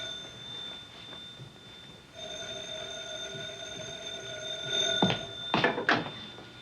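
An old-style telephone rings in an office scene from a classic film, a sustained metallic bell tone with clicks and handling noise toward the end.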